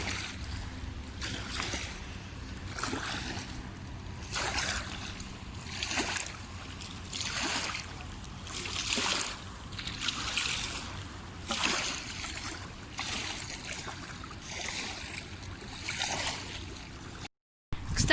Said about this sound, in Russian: Послушайте просто, как эта вода булькает.